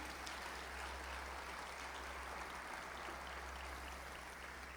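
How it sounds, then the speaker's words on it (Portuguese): A church congregation claps in a faint, steady wash of applause, with a low electrical hum running underneath throughout. "Aplauda Ele em nome de Jesus."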